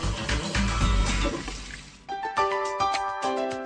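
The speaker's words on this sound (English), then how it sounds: "Strong KangenWater will be discharged from the flexible pipe, and strong acidic water will be discharged from the secondary pipe." Water discharges from the flexible pipe of a Kangen LeveLuk 8 water ionizer machine, a steady close gushing and splashing that shifts partway through to a brighter, ringing trickle into a container.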